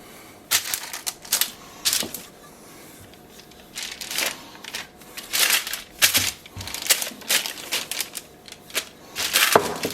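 Spelt pie crust dough rolled out on baking paper, giving irregular bursts of crinkly paper rustle and soft rolling scrapes, close and fairly quiet.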